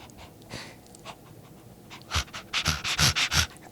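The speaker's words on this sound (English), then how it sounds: "You can like hear me breathing like." Heavy breathing sits close to the microphone during a solo podcast recording, starting with faint breaths and building to a run of loud, rhythmic panting exhalations near the end.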